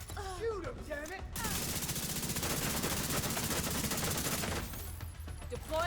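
Gunfire in The Division 2, a loud sustained burst of rapid automatic shots in the middle, with voices talking before and after.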